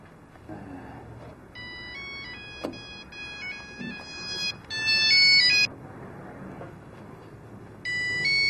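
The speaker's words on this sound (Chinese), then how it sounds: "偏偏这时候打电话来。" A telephone rings in a TV crime drama scene: repeated electronic ringtone bursts with tonal harmonics, moderately loud, separated by short gaps over a low room background.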